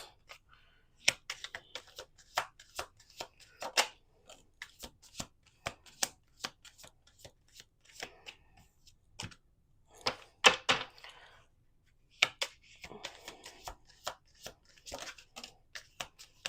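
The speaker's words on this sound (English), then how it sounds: "All right, let's do 2 more shuffles." A deck of playing cards is shuffled repeatedly up close, with crisp riffling bursts and sharp taps of the deck squared against a table, separated by brief quiet gaps.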